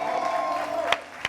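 Crowd noise at a church worship evening honoring a gospel singer, with voices cheering and shouting, a steady broad wash that swells briefly twice near the end.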